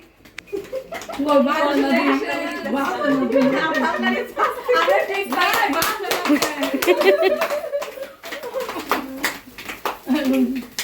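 Family members gathered for a cake-cutting celebration clap together in rhythmic bursts, mixed with lively talking and laughter from adults and a child nearby.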